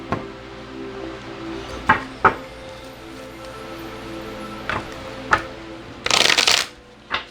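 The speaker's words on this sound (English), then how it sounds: "let's pull some cards on relieved and amused" A deck of tarot cards is shuffled up close: a few scattered taps and card clicks, then a loud, fast riffling burst near the end over a steady low hum, with no talking.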